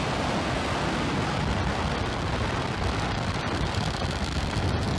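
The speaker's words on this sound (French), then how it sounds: "Donc là on a la Starship qui décolle du Texas." SpaceX Starship SN8 rocket with three Raptor engines lifting off from Texas, a loud, steady broadband roar like dense crackling rumble with wind buffeting, unbroken for five seconds.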